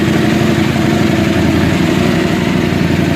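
A 2019 KTM 790 Adventure R motorcycle, warmed up and fitted with a Sharon Rally exhaust and spark arrestor, idles steadily with a throaty, loud low rumble throughout, running alone with no talk.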